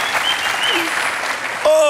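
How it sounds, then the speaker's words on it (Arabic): Studio audience applause on a Sunday entertainment TV show after a singer's performance, a busy wash of clapping overlaid by the host's voice and a short sung or tonal phrase near the end. "تصفيق على زينة."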